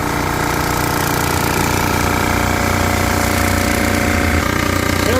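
A resurfacing machine cuts across a warped engine cylinder head, giving a steady, loud, dense mechanical grinding drone with rapid rattling pulses that runs unbroken throughout.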